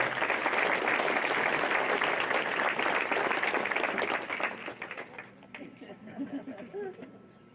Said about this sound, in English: We can still clap, though.